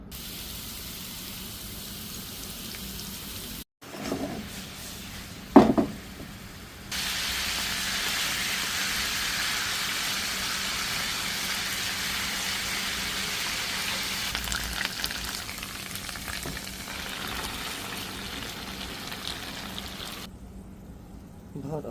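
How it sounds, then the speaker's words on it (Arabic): Kofta frying in a little oil in a pan, a steady broadband hiss that starts after a couple of brief knocks and carries on evenly for about fifteen seconds before cutting out. "شوية زيت وبنحط الكفتة بنقليهم هيك طابت."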